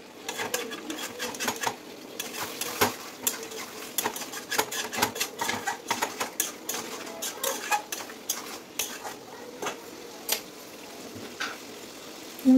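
A spoon clicks and scrapes steadily against a pot while fish curry is stirred, a dense run of close metallic taps and rattles with brief pauses.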